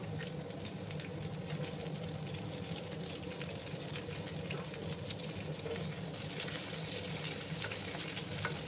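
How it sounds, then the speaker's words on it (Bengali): Beans, flat beans and eggplant fry in a pan over a spiced masala base for a mixed paneer vegetable dish, giving a steady, even sizzle with occasional stirring scrapes, close and continuous with no talking. "আর ততক্ষণে আমার সবজিগুলো ফ্রাই হতে থাক।"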